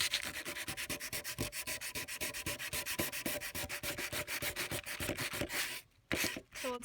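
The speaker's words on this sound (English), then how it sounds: "you're going to want to start sanding it down." A hardened ding repair on a surfboard is sanded by hand in fast, steady back-and-forth strokes, a close, continuous rasping rhythm that pauses briefly near the end.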